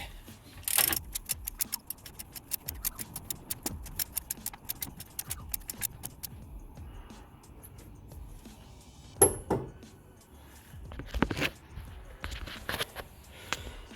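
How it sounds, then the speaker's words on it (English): A ratchet turns the V6 engine of a 1998 Nissan Pathfinder to rotate a newly fitted timing belt. Rapid, close metallic clicking runs for several seconds, then gives way to a few scattered clunks and handling noises. "grab the ratchet and we're just going to do a couple of rotations of the belt of the motor"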